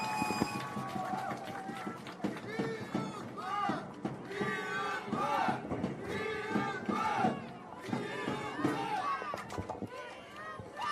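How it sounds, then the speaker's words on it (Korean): A crowd at an outdoor political campaign rally at a station square applauds and cheers steadily, a dense, continuous roar of clapping and shouting that holds for the whole stretch. "큰 박수 부탁드립니다."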